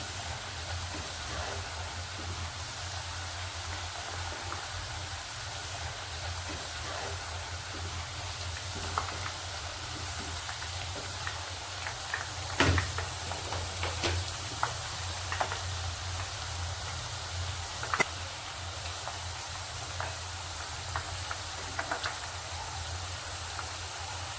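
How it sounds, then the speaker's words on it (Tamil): Steady sizzling and crackling of potato chips frying in hot oil, a constant hiss with scattered small pops, no talking. "பொட்டேட்டோ பொரியிற சவுண்டு எவ்வளோ நல்லா இருக்குல்ல கேட்குறதுக்கு"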